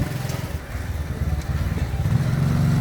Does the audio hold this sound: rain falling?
no